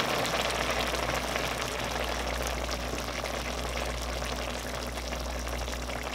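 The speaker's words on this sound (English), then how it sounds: "So we'll put this back down to a simmer." Creamy corn and potato chowder simmering in a pot, giving a steady, continuous bubbling and gentle liquid burble with no talk, unchanging from start to finish.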